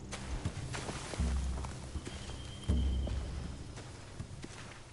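Horses in The Walking Dead: The Final Season video game shift and step, with soft hoof clops and thuds scattered over a low rumbling background, fairly quiet and close.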